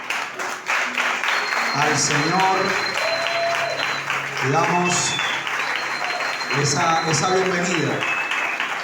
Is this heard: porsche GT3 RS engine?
no